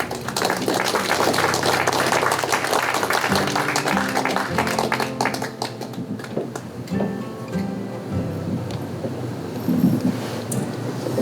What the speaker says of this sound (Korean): 우리 박수로 먼저 환영하고 축복하겠습니다